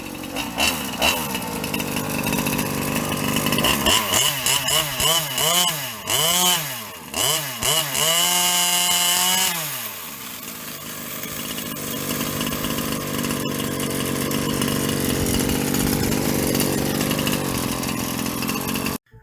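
A Rampage 36cc two-stroke engine running through its break-in, revving up and down in repeated rising-and-falling bursts before settling into a steady, loud buzzing idle close by.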